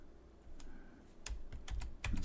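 Keys clack on a computer keyboard while editing in Notepad++, a handful of separate taps, quiet and close, in a still room.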